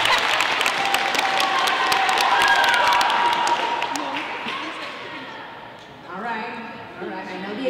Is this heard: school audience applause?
yes